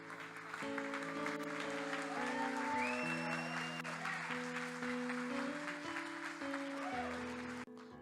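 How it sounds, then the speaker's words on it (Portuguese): A church congregation claps together at a Portuguese-language family worship service, sustained applause running several seconds under organ or keyboard chords. "Eu vou aplaudir."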